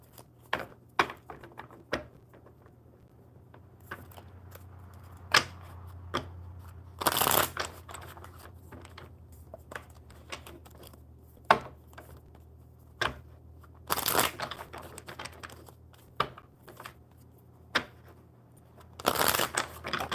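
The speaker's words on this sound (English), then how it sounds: "One more good shuffle for Broski." Playing cards riffle-shuffled a few times, each shuffle a loud fluttering burst, with light taps and card handling in between.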